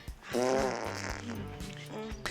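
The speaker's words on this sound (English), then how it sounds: "she rips the biggest fart of the 70s" A long, loud, buzzing fart from a scene in the 1979 movie "10" rumbles for about two seconds, with a brief, quieter sputter at the end.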